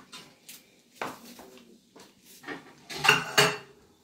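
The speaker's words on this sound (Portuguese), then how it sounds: "Eu vou acrescentar e colocar ele aqui no prato." Rice balls (bolinho de arroz) set onto a plate, a series of light ceramic clinks and taps in quick irregular succession, close and quiet with no talk.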